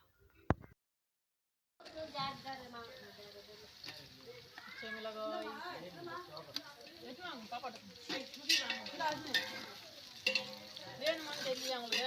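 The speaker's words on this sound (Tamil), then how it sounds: "வெங்காயம் ஒரு பத்து பச்சை மிளகா இதெல்லாம் சேர்த்து நல்லா வதக்கலாம்" Onions and green chillies hitting hot oil with spices in a pan, a soft sizzle and stirring clatter after a brief pause, rising in intensity under a voice talking throughout.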